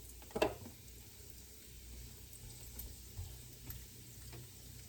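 Bacon frying in a pan on a stovetop makes a faint, continuous sizzle, with a brief clatter near the start and a few soft taps afterward.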